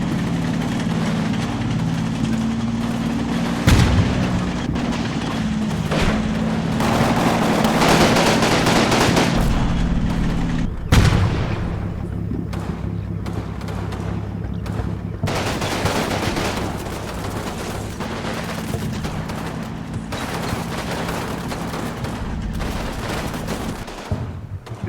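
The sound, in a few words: German mortar rounds and gunfire in video game Combat Mission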